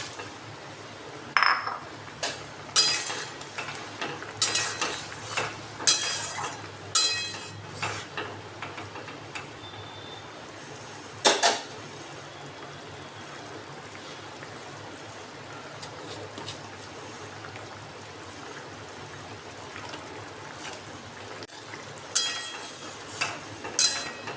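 Pumpkin koftas being added to a boiling spiced curry: scattered clinks of a utensil against the pot and light stirring scrapes over a quiet simmer, with sparse bursts and no talk.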